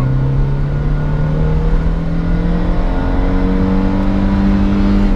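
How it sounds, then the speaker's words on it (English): A Renault Clio 1.6 8V engine revs up steadily to its RPM limiter, a loud, continuous rising drone heard from inside the car, with no talking. "RPM limiter."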